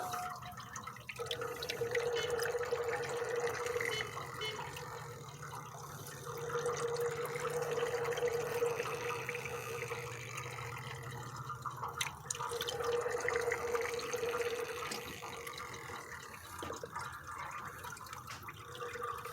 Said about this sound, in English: You can hear air trying to escape.